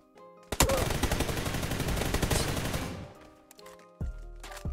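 Rapid automatic hip-fire gunshots in the mobile shooter PUBG New State, a dense loud burst of rounds lasting about two and a half seconds, tailing off into quieter game ambience before a low thud.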